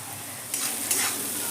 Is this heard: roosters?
no